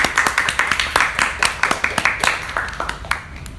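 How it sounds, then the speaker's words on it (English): Studio audience applause on a talk show, a burst of sharp, rapid hand claps from a small crowd, close and lively, tapering off toward the end. "Please give a round of applause to these ladies."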